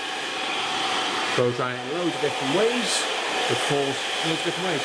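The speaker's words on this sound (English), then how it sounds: "Blow dry it in loads of different ways." A hair dryer blows through a textured pompadour in a barbershop, holding a steady, loud whooshing roar for the whole clip while someone talks over it.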